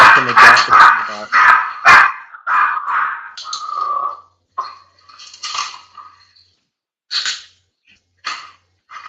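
A female dog barks several times up close, a quick cluster of loud barks followed by quieter, sparser yips and sounds with silent gaps between them.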